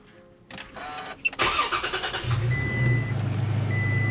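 A 2017 Toyota Tacoma pickup cranks over and its engine catches, rising into a steady idle close by, with a thin electronic tone chiming intermittently afterward.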